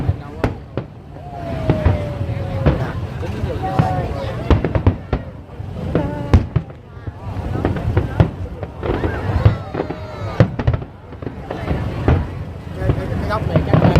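Fireworks burst repeatedly in an irregular crackling barrage at a Tết New Year celebration, with pops and whistles mixed with people talking and wind noise throughout.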